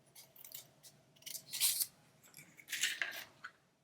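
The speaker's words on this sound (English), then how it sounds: "let's go ahead and cut our heart in half" Scissors snip through a small paper doily heart, with several crisp cutting bursts, the loudest two near the middle and the end, fairly close and alone without speech.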